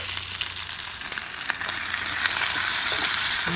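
Sausage and potatoes sizzle and crackle in a hot pan at a campsite, a dense hiss with occasional pops and stirring scrapes, close and steady.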